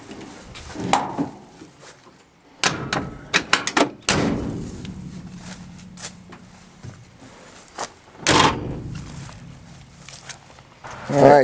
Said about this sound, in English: All the doors shut and open as they should.